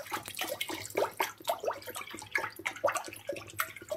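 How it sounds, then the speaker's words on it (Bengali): Water is poured into a pot to make a semolina dough, giving a soft, uneven splashing and gurgling that runs close and fairly quiet throughout. "তো পরিমাণ মতো জল দিয়ে দেব"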